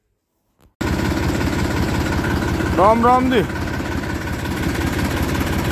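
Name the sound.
tractor engine idling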